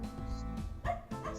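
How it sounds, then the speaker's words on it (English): A dog in the video game Majotori howls at the moon, its drawn-out wavering cries rising over a steady backdrop of game music, with a brief louder burst near the end. "You are not supposed to howl at the moon."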